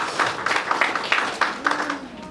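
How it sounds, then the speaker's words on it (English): Audience at an Operation Wealth Creation campaign gathering in East Acholi sub-region claps in a steady, rhythmic pattern of sharp bursts, close and fairly loud, with voices mixed in. "A big round of applause for the professor"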